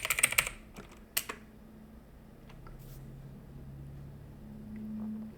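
Keys on a computer keyboard being typed in a quick burst near the start, then a short second flurry, as an npm install command is entered, followed by quiet room hum.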